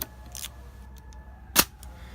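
Nikon S2 rangefinder camera shutter fitted with titanium curtains from a Nikon F fires with one sharp, fairly loud metallic click that stands alone in a quiet room.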